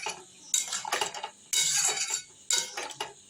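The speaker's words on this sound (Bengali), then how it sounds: "এবার ঢাকা দিয়ে দেব, ঢাকা দিয়ে ফুটতে দেব।" A lid set onto a cooking pot of jackfruit seed curry gives three sharp metallic clanks about a second apart, each followed by brief rattling clatter, close and fairly loud.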